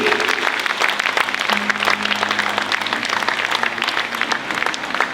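A church congregation applauds through a worship conference session, steady dense clapping with crowd noise throughout and a sustained tone running beneath.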